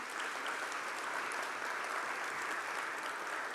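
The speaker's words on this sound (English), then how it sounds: "You want to give them a round of applause?" A dense, steady round of audience applause for a discussion panel on sickle cell disease and racism in American healthcare fills the room, loud and continuous throughout with no talk over it.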